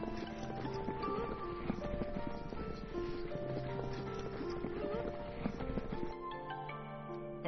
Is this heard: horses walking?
yes